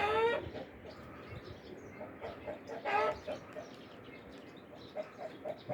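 Young chickens cluck in short, scattered bursts, a few louder calls standing out near the start and around the middle, with faint background noise and some low talk.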